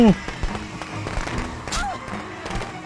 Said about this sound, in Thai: โยนประทัดก่อนเลยละกัน